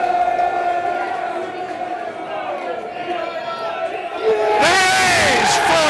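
Football crowd at a QPR versus Millwall match, loud and dense, chanting and cheering steadily before swelling into a sudden roaring surge near the end.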